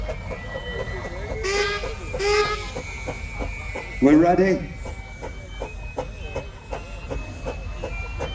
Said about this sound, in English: so you just listen to the 2 distinct sounds of these engines pulling.